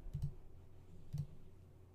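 Computer mouse clicking on a Mac, two short quiet clicks spaced about a second apart against faint room hiss, close and alone with no talking.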